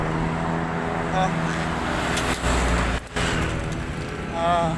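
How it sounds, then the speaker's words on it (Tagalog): Many vehicles stream past on a road near Abacan Bridge, giving a continuous roadway roar with swells as individual cars go by and a brief dip midway, while voices murmur faintly underneath. "Dami mga dumadaan na sasakyan."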